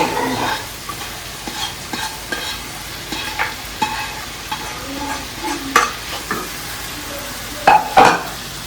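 Carrot and potato vegetables sauté in a hot pan, with a steady close sizzle and a series of sharp spatula scrapes and taps against the metal at irregular intervals; no one talks.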